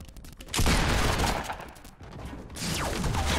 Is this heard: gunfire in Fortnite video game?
yes